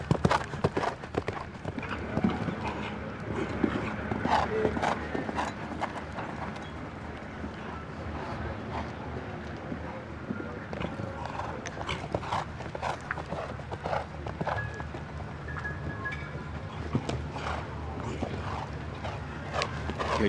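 At an outdoor show jumping final, a horse's hooves thud in an irregular canter rhythm across the arena, faint under steady crowd murmur and an announcer's commentary.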